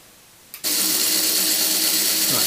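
Electric motors driving Meccano pinball pop bumpers start up abruptly after a quiet moment, then run as a steady, loud mechanical whir with a broad hiss.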